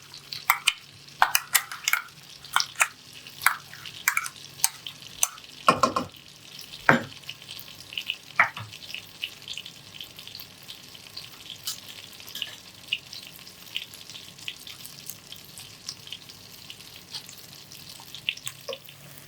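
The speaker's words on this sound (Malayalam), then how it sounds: "ഈ മസാല നമ്മുടെ ഈ ബട്ടറിനകത്തിട്ട് നന്നായി വഴറ്റിയെടുക്കുകയാണ്" Ground masala sautéing in butter for paneer butter masala, with a spoon scraping and stirring against the pan in repeated bursts over a soft steady sizzle; no voices.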